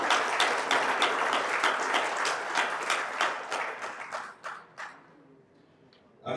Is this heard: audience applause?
yes